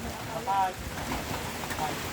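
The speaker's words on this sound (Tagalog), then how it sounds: "Ang uh, ulan actually hindi naman malakas no, konti lang." Light rain falls on a shelter outside a shop near a chapel and gym, a soft steady patter forming a faint background, with faint voices now and then.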